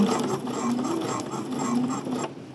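A sewing machine stitches down a seam on a New Look 6795 summery caftan, a rapid, even mechanical whirring that runs continuously up close for a couple of seconds before easing off.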